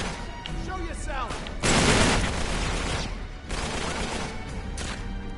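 Gunfire in Uncharted: Drake's Deception, a dense fusillade with a loud burst of shots near the middle, continuing as steady battle noise throughout, with faint speech mixed in.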